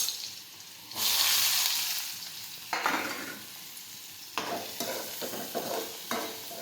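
Chopped onions drop into hot oil already crackling with mustard seeds, cumin and asafoetida, setting off a loud sustained sizzle that swells, settles, then flares again with a few stirring clacks.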